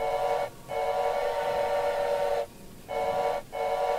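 A train whistle in the horror video game Choo Choo Charles blows in long, loud steady blasts, broken by three short pauses, with nothing else heard.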